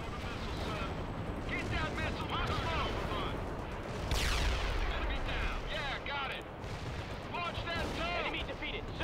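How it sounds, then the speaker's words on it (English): Anti-aircraft guns pounding away in the strategy game World in Conflict, a steady hail of rapid gunfire and booms amid a loud battle, with soldiers' voices talking over it. "Good to see those AA guns back in action"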